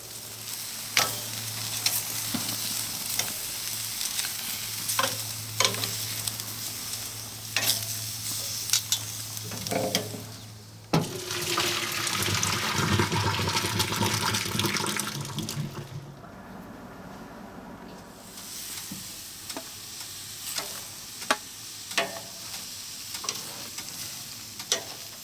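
Pork chops sizzle steadily in a pan, a dense continuous frying crackle with scattered clinks and scrapes, a brief louder burst of sizzling midway, then calmer frying.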